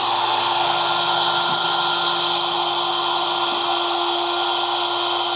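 Robotics machine starting up to cut a plastic part, a loud, steady high-pitched whine of a fast spindle that holds evenly throughout with no pauses and no voices.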